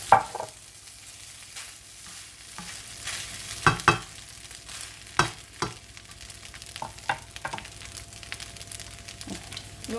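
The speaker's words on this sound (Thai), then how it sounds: "ผัดให้มันแห้ง" Rice stir-fries in a pan with a low, steady sizzle, punctuated by sharp scrapes and knocks of a spatula against the pan at irregular intervals, close by and without talk.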